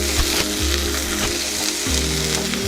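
Chopped red shallots and green chillies sizzle steadily in hot oil in a pan while a Kerala winged bean thoran is being cooked, a close, continuous frying crackle with no talk.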